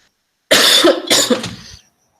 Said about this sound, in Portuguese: Nossa, tô com uma tosse, gente.